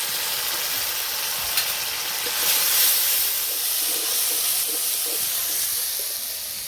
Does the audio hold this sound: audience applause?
no